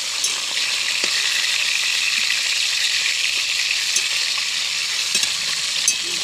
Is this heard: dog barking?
no